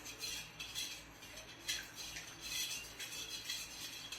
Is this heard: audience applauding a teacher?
no